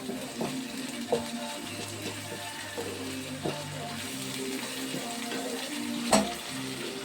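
Thotakura (amaranth leaf) curry frying in a pan, a steady close sizzle with occasional stirring clinks and scrapes, one sharper knock near the end.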